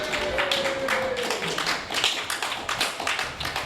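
Live audience applause and cheering at a podcast recording at No Brand Con 2022, a dense wash of clapping that stays steady and loud for a few seconds, with a faint tonal whistle-like sweep early on.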